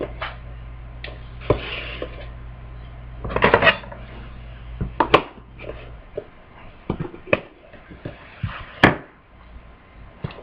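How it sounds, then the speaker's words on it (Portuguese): Scissors snipping through homemade marshmallow in a kitchen, heard as a series of sharp, irregular clicks and snips mixed with light clatter of utensils, fairly close and unaccompanied by talk. "Muita gente prefere a tesoura."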